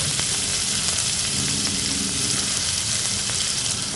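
Chopped shallots fry in a hot pan for an idiyappam kurma, giving a steady, dense sizzle that stays loud and even throughout, with no voices.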